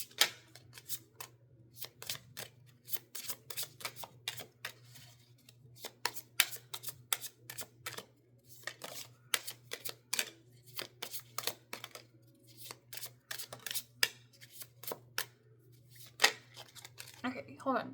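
Tarot cards are shuffled close up in a stream of crisp, rapid riffles and flicks, quiet and uneven, with a low steady hum underneath.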